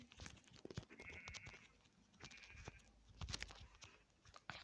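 Faint Minecraft sheep bleats sound twice, each a short wavering cry, over soft tapping and clicking noises.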